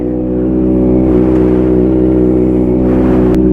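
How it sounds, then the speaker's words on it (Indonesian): Kawasaki ZX25R motorcycle fitted with an Arrow aftermarket exhaust idles and revs nearby, a loud steady buzzing drone with a slight swell in pitch, heard alone. "Kita dengerin suara dari Aero-nya."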